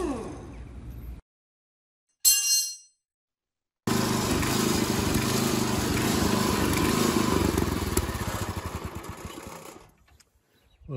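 A Craftsman 5 HP tiller engine with a replacement carburetor runs with a pulsing idle. A short burst comes first, then a sustained, loud, rough drone that wavers and fades toward the end.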